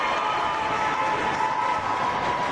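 A crowd at a men's college volleyball match cheers after a spike, a dense, sustained roar of voices filling the gym at an even, fairly loud level.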